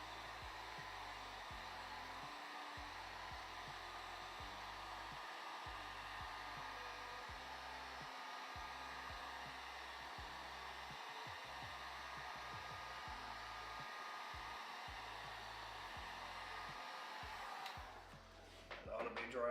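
A Ball Warmer 3000 heater blows to dry paint on Shaker-style cabinet doors, giving a loud, close, steady hair-dryer-like whir that runs unbroken and shifts briefly near the end.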